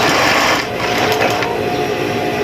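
A sewing machine runs steadily after its thread tension has been adjusted, giving a loud, continuous close-up whir and rattle with a brief dip in level near the start.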